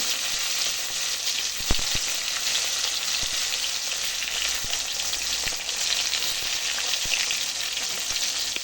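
Pieces of spiny gourd fry in hot oil in a kadai, giving a close, steady crackling sizzle with occasional light clicks from stirring.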